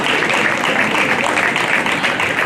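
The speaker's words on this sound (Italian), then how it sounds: "Applausi!" Outdoor audience in a town square at San Felice a Cancello applauding a live show, steady dense clapping throughout with no talk over it.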